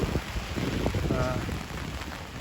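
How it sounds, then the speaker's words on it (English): Steady, fairly heavy rain falls and patters on a street in Holborn, London, dense and constant, with no talking. "it's raining a bit heavier now"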